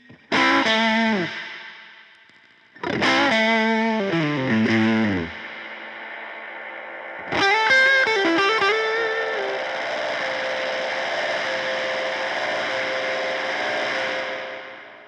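A Buzzing Bugs Audio Devices preamp and reverb pedal throws out wild oscillating, distorted bursts: two choppy warbling phrases, a pause, then a loud swell that decays into a long, wavering, reverberant wash with no voice over it.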